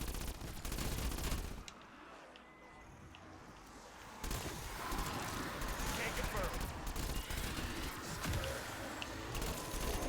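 Rapid PPSh submachine gun fire against zombies in Cold War Zombies on the Mauer der Toten map. Dense, sustained bursts of automatic gunfire with a brief lull, then heavy firing resumes amid game noise and some talk.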